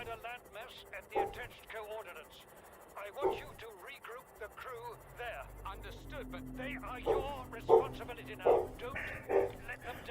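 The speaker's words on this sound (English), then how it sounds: "there's dogs boofing because someone honked the horn outside" Several dogs bark and yip outside after a car horn honks, their sharp barks coming in irregular bursts at moderate distance, mixed with talking and a low background drone.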